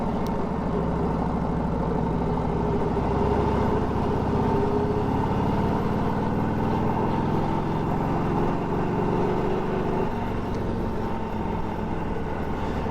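A 1942 Harley Davidson WLA motorcycle engine runs steadily in second gear at low speed through sharp bends, a continuous low, throbbing V-twin drone heard up close with no voices.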